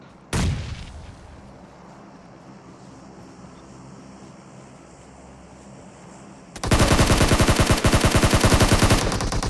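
Gunfire and explosions in the battle game PUBG Mobile: one sharp blast near the start, a low rumbling lull, then a loud sustained burst of rapid automatic fire to the end.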